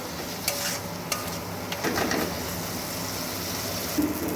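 Spices and tomato stir-fry in a pan for a desi mourola fish curry, with a low steady sizzle and occasional scraping stirs, quiet and close with background bird coos.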